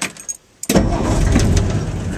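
A truck running on wood gas through a wood gas carburetor cranks briefly, catches, and settles into a loud, steady idle close by after a few short clicks and a moment of quiet.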